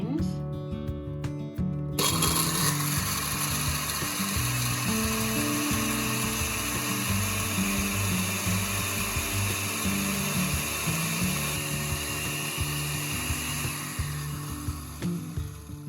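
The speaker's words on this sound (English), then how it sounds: "I've just dehydrated okra pieces for the first time, and I'm going to grind them up." An electric grinder pulverizes dehydrated okra pieces into powder, starting after a brief pause with a loud steady motor whir and rattling of dry pieces that continues throughout.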